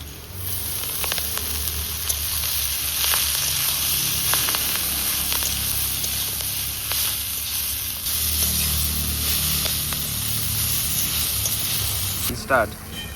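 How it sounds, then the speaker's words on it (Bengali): Green chilies and greens frying with garlic in a pan give a sustained loud sizzling hiss with occasional stirring scrapes and a sharper clatter near the end. "রসুনটাই দেখুন লাল লাল করে একটু ভেজে নিলাম এখন দিয়ে দেবো আমি কাঁচা লঙ্কা আর হচ্ছে গিয়ে শাকটা"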